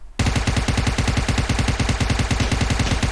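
Loud, rapid automatic gunfire in PUBG Mobile hammers out a single sustained burst of evenly spaced shots, close and dominant with no talk over it.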